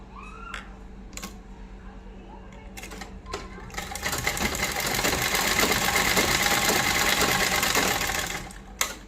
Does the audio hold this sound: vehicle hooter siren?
no